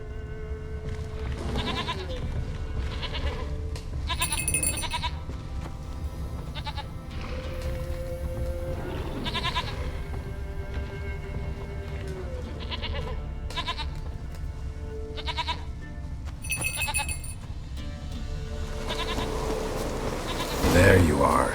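In The Witcher 3, a goat bleats several times as short, separate cries over steady game ambience and music, with a spoken game voice heard near the end.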